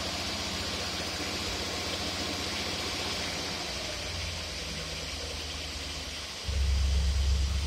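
An engine fitted with a Holley double pumper carburetor idles steadily nearby, a low continuous rumble that deepens and grows louder near the end.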